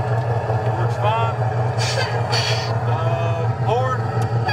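Air brakes of a big rig truck in a driving simulator hiss in short bursts several times over a steady engine idle hum, with a person speaking briefly in the background.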